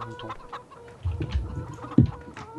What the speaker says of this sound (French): Je vois plein de poules, effectivement.